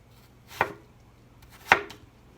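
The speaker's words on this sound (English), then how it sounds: "we're just going to cut each cheek into sticks and the sticks into dices" A knife cutting fruit into sticks and dice on a board, heard as two distinct, close chops about a second apart against near silence.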